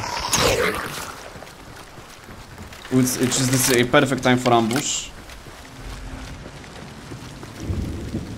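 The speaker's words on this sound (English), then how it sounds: "Okay, the heavy rain is just starting." Heavy rain just beginning to fall in the video game Hunt: Showdown, a steady broadband wash running the whole time beneath someone talking, with a distant thunder-like rumble near the end.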